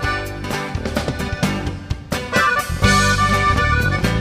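A song plays loud and full, a dense musical mix with a driving beat and bright melodic lines, with no talking over it.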